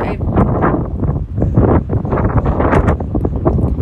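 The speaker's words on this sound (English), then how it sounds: "You can tell how windy it is. It's super, super windy out there today." Strong wind buffets the microphone in loud, continuous gusts, a roaring, rumbling blast with no clear voices.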